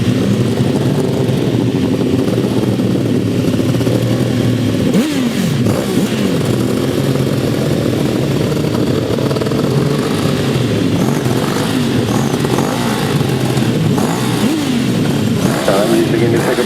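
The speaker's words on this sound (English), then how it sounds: "Begin to pick up the revs then for the start of the second leg." Grasstrack sidecar motorcycles at the 2013 Lincolnshire Poacher meeting rev loudly together on the line, a dense, rising and falling roar of engines close by, with a commentator's voice faintly underneath.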